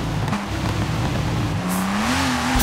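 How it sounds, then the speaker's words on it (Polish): A Porsche with a boxer engine drives in the racing game Forza Horizon 4 on a snowy winter map, its engine note rising steadily in pitch as it accelerates, fairly loud and continuous. "I tutaj mamy Porsche, czyli prawdopodobnie Boxer silnik."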